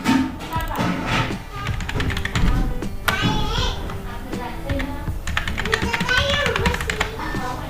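A computer keyboard clicks in quick bursts of taps as a captcha code is entered on a form, with a voice talking over much of the typing.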